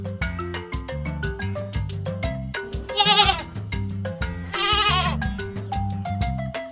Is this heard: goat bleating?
yes